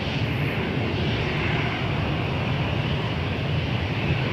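Airplane at Toronto Pearson Airport giving off a steady, loud broadband jet roar that holds without a break, with no voices over it.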